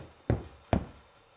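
Two muffled knocks from upstairs neighbors, about half a second apart, sound through a ceiling, faint and distant in an otherwise quiet room.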